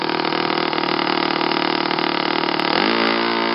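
A YS FZ115S model aircraft engine runs at 20% throttle on a test stand, buzzing loud and steady up close, then its pitch drops slightly near the end.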